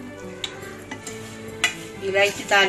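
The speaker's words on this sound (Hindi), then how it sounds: "घी डालने के बाद खोपरा डाल के भुनने का अच्छे से" Grated coconut roasting in ghee in a pan, stirred with a utensil: a soft steady sizzle under several scraping, clinking strokes of the spoon against the pan, growing louder near the end.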